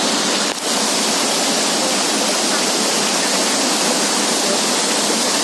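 Waterfall at Plitvice Lakes national park in Croatia, a loud, dense and unbroken roar of falling water filling the whole stretch, close by and steady.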